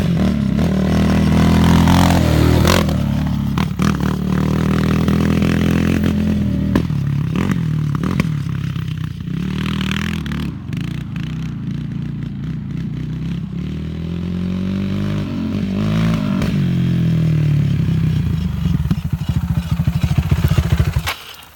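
A Suzuki LTR450 ATV engine runs roughly, sputtering and surging with uneven revs that rise and fall, dip as if cutting out, then pick up again, loud and close for about twenty seconds.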